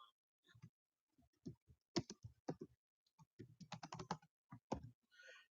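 Typing on a computer keyboard: close, crisp key clicks in irregular bursts and quick runs, with quiet gaps between, and no talk.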